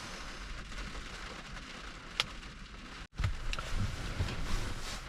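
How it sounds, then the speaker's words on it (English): Rain falls outdoors at a stormy campsite, making a faint, steady hiss, broken by a sharp click and a brief dropout partway through. "even though the rain's, you know, a bit noisy"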